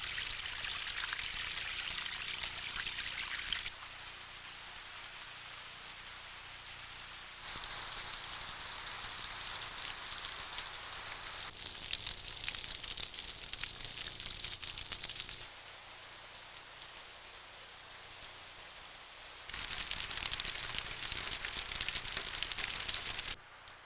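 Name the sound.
light rain dripping from overhanging canyon rocks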